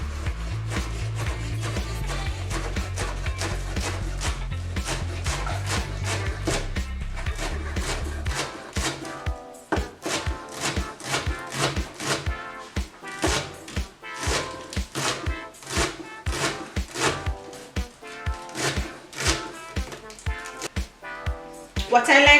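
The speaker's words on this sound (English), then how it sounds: "What I like to do again is to just chop everything a little finer." Knife finely chopping rolled calalloo leaves on a board, a long run of quick, sharp rhythmic taps close by, with music playing underneath.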